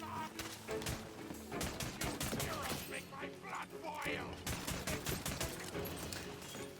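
Rapid pistol gunfire in the video game Tiny Tina's Wonderlands, a dense run of sharp, loud shots with game effects and impacts around them, over steady background music and a voice talking.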